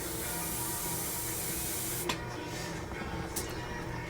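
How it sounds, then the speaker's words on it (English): A spray can of paint hisses in short bursts, a steady broadband rush with two brief sharper puffs near the end, fairly close, in a test spray while painting 1/16 model car parts. "Once again, a little test spray over here."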